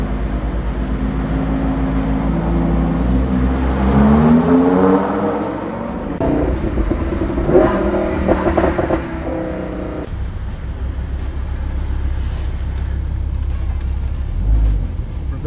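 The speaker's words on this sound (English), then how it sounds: "So even in your standard sport mode, the car is just incredibly loud." Lamborghini Huracan engine running loud in standard sport mode, a deep continuous roar that swells and falls with rising revs around the middle, steady and close throughout with no talking.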